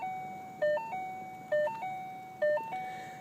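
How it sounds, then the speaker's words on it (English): A 2013 Mustang GT sounds its door-open warning chime. Three rising-and-falling electronic ding sequences repeat at a steady pace, each bright tone fading before the next, with no talking. "Sorry for the annoying door ding."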